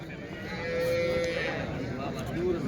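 Cattle low at the Punganur weekly cattle market, with one long drawn-out moo and a shorter one later, over a busy market background with some voices.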